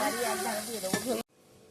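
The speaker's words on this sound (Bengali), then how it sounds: "নিহেড়ে মাছ এটা ভাজা হবে" Nihere fish fries in a pan, with a steady crackling sizzle and a brief scrape of stirring before the sound cuts out abruptly near the end.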